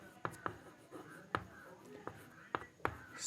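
Chalk or marker strokes on a classroom board during a Hindi-medium Class 10 geometry lesson, a series of sharp separate taps and scratches spaced irregularly, close and fairly quiet with faint room noise between them.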